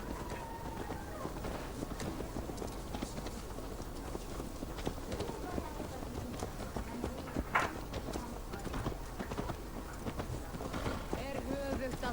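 Horse hooves clip-clop steadily in Assassin's Creed Valhalla, a continuous rhythmic trot sitting under game music and ambient sound, with character voices talking over it.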